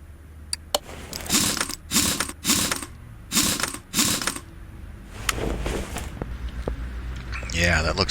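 A ratchet clicks in quick bursts while tightening nuts onto bolts in the video game Car Mechanic Simulator 2018, giving several loud, close runs of mechanical clicking separated by short pauses.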